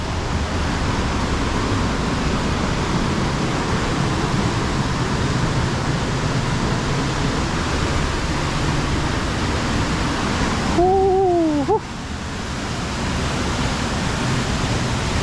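Athirappilly waterfall sends up a steady, full broadband roar of rushing water from close range. Near the end a brief gliding tonal sound cuts through it.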